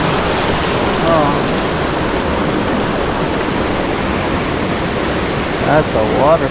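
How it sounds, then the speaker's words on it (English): A creek waterfall roars as a steady, loud broadband rush filling the whole clip, with brief bird chirps near the end. "that's a waterfall right there."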